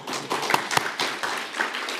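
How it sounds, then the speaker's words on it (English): Brief burst of audience applause for Airflow at a Kubernetes tech talk, scattered claps rising and falling across two seconds, moderately loud with no speech over it. "Round of applause for Airflow,"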